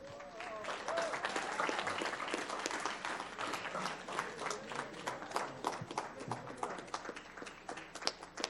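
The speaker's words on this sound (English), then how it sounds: "Let's give her a round of applause." Audience applause at a school board meeting for an award nominee, steady dense clapping throughout with a few louder claps near the end and some voices mixed in.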